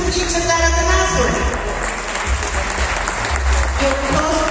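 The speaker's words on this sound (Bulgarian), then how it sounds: "Вашите аплодисменти за господин Чавдар Атанасов." A crowd at the closing ceremony of the European Judo Championships in Sofia, Bulgaria, applauds steadily and loudly, while a voice speaks over the clapping.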